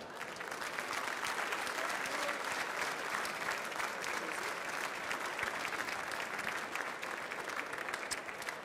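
Sustained audience applause fills a cheesemonger competition award ceremony, steady and dense from start to finish with no break.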